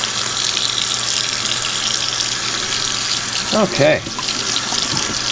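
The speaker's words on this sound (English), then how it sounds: "Got some nice warm water. Hot as I can stand it at least. Rinsing down a little bit." Warm tap water pours steadily to rinse a freshly unbanded rainbow tie-dye T-shirt, a continuous close rushing splash, with a brief spoken word partway through.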